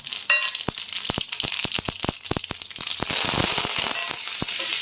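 Cumin and tempering spices crackle and pop in a little hot oil while a low-oil okra fry is being made. Sharp, irregular pops sound close over a steady sizzle, with no talk.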